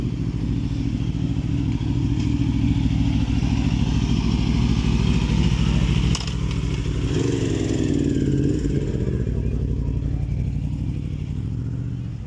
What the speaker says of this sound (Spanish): Hoy están llegando todos en moto